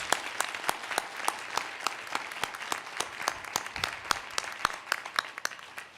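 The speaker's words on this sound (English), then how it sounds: "please join me in a round of applause for all our presenters" A small audience at a health equity forum claps for the presenters; individual hand claps stand out sharply in a fairly quick, slightly uneven rhythm over a softer bed of clapping, moderately close and continuing steadily for several seconds.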